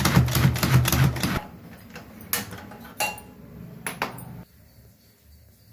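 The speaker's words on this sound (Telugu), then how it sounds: "ఇలా చాప్ చేసుకుంటున్నాను." Knife chopping a quartered onion into small pieces on a board: a rapid run of close, crisp taps, then a handful of slower separate knocks before it goes quiet.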